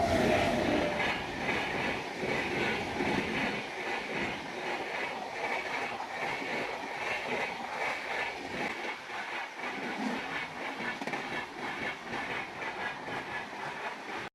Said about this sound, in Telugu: ఇక్కడ ట్రైన్ వస్తుంది ఇప్పుడే.